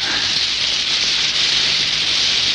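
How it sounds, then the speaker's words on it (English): Heavy rain pours down in a dense, steady hiss that fills the whole stretch evenly, loud and close, with no voices or other sounds over it. "I'm afraid if it continues to rain very heavily,"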